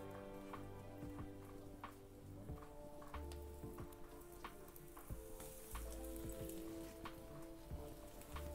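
Semolina-coated pieces fry in a pan with a faint, continuous sizzle and scattered small pops. The sound is low and close, with no voices.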